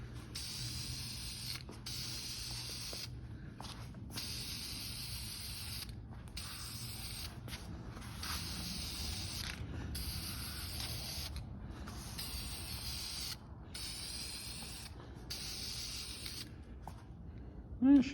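Repeated bursts of an aerosol spray can laying a coverage coat of paint on a Snapper mower part, each hissing spray separated by short silent gaps, close and fairly quiet.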